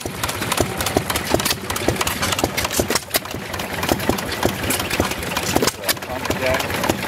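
Small old stationary engine, a pump jack or combination engine, running at an antique engine show at a county fair in Plymouth, California: a steady rapid chuffing knock with people talking nearby throughout.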